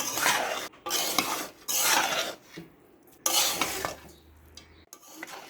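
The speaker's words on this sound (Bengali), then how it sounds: "যেন ঘিয়ের ফ্লেভারটা সবখানে পৌঁছে যায়, ওই জন্য সব কিছু ভালো করে মিক্স করে দিচ্ছি" Beef pulao with ghee is stirred in a pot with a metal spoon, giving several close, loud bursts of scraping and rasping separated by short pauses, with a soft sizzle underneath.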